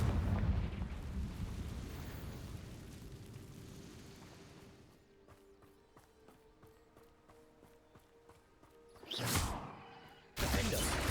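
In the video game Hogwarts Legacy, a Confringo blasting spell goes off, with a low rumbling backdrop, a quieter stretch of rhythmic ticking, then two loud bursts near the end.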